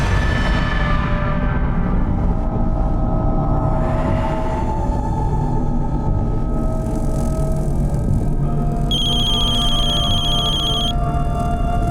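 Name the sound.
telephone ringing, call not answered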